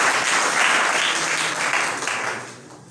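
An audience in a coaching-class room claps for Rohtas sir, a teacher, with a loud burst of applause that stays steady and then fades out toward the end.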